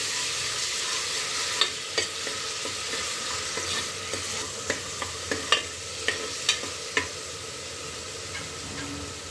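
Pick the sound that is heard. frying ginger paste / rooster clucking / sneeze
frying ginger paste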